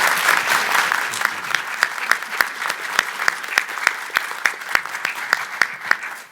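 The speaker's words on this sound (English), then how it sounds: "So let's give them a round of applause for doing this." Audience applauding at a colloquium panel on HIV and HIV-related stigma in Native and Indigenous communities: steady, dense clapping with sharp individual claps standing out, sustained over several seconds without talk.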